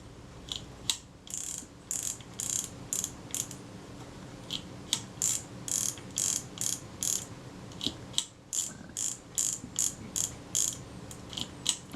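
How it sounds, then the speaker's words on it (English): The film advance mechanism of a Kodak Retina II type 142 camera is worked by hand, giving repeated bursts of crisp ratcheting clicks in an uneven rhythm, close up and with no talking. "And that's all working smoothly. So our film advance components are back in and are good to go."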